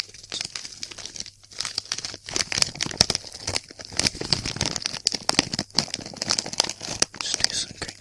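A crisp packet is crinkled and scrunched up close in a quiet, whispery setting, producing rapid, crackly rustles in uneven bursts throughout.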